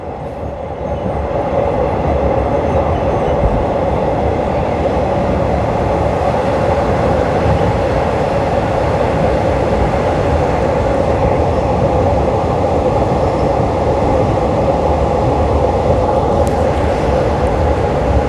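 A train rides along an elevated line from Don Mueang to Krung Thep Aphiwat Central station. From inside the car, a loud, steady rumble of wheels and motion carries on without a break, and no one speaks.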